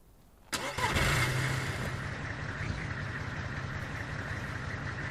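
A vehicle engine in the survival game DayZ cranks and catches with a sudden loud burst, then settles into a steady, rumbling idle that continues near and prominent, with no talking.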